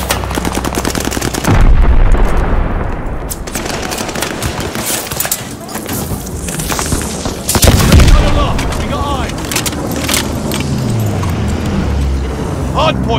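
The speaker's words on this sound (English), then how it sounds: "friendly bombing run on the way" Loud explosions from a friendly bombing run boom through rapid gunfire and machine-gun bursts in Call of Duty Vanguard, with two heavy blasts standing out amid constant battle noise and in-game voices.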